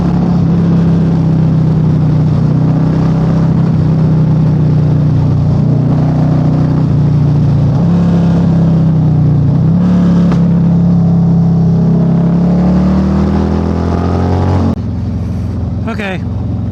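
A 2024 Harley-Davidson Street Glide bagger fitted with Fox QS3 shocks rumbles steadily while being ridden, a loud continuous engine drone with slight pitch shifts and strong wind noise throughout.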